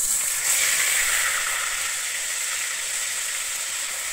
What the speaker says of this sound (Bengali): আমি পেঁয়াজটা দিয়ে কিন্তু এখানে খুব ভালোভাবে ভেজে নেব।